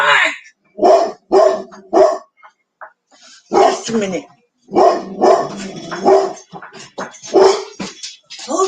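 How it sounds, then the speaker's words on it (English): A pet dog barks in an apartment, several sharp barks in quick bursts close by, mixed with a person talking and shouting at it. "Every time somebody comes in the apartment complex, he thinks he needs to bark."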